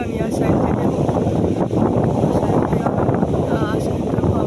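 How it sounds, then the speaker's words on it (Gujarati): Strong gusting wind ahead of rain roars across the microphone as a loud, continuous broadband rush with no breaks, while faint traces of voices sit underneath. "वरसाद नहीं आयो पण आ वायरो आयो"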